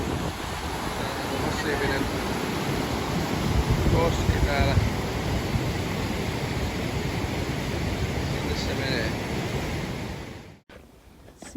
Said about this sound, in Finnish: Täällä on massiivinen koski täällä.